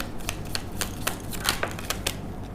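Tarot cards shuffled and drawn at a reading, a run of quick crisp riffling snaps and soft slaps, close and fairly loud with no voices.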